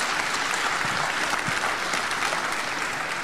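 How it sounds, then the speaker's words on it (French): A crowd at a francophone stage show applauds itself, a steady wash of clapping that holds evenly for the whole short stretch. "Vous pouvez applaudir pour vous-même."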